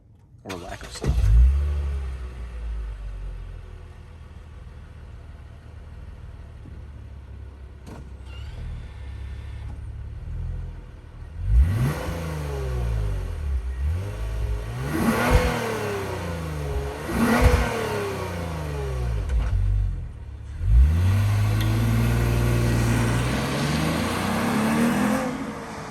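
A 2021 Lexus IS350 revs repeatedly, its intake noise rising and falling in several distinct bursts after a quiet idle start, loud and close with no talking.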